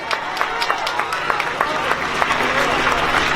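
A rally crowd applauds with scattered, uneven claps and cheering that builds slightly over a few seconds, with a speaking voice partly mixed in.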